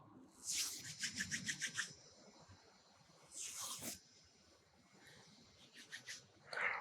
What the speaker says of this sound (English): Gently rub the palms one against each other.